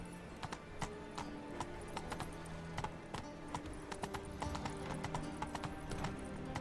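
Roach gallops across the Witcher 3 countryside, hooves drumming in a fast, even clip-clop, fairly faint with a soft whinny and game ambience beneath.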